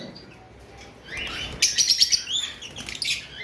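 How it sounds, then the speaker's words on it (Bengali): A pair of caged green rosellas chirps among other pet birds for sale, quiet at first, then bursts of sharp, bright, repeated chirps rise loudly near the end. "এইখানে দুইটা গ্রিন রোজি রয়েছে"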